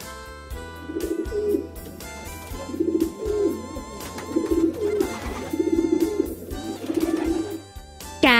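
A pigeon coos in a repeated, steady rhythm of soft, low rolling calls, heard over a continuous musical background.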